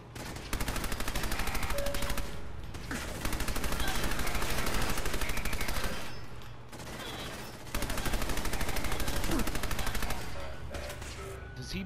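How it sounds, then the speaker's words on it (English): Machine gun fire in the video game Fallout 4, long rapid bursts of loud automatic gunfire separated by short pauses, dense and continuous through most of the stretch. "It's like a machine gun war."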